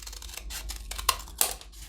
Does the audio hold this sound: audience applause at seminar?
no